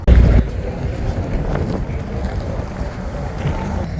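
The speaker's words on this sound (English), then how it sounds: "It's really windy and cold today." Strong gusty wind buffets the microphone outdoors in the Quartzsite desert on a cold day, a steady low rumble with one heavy blast at the start and no voices.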